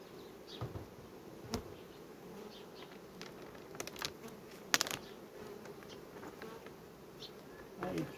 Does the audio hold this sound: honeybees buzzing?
yes